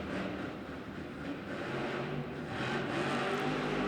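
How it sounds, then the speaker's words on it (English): A Monster Jam truck engine revving in an arena in Greensboro, NC, a broad steady roar that swells slightly toward the end, distant and blended with crowd and arena noise. "You hear the throttle going on in that terminal velocity truck"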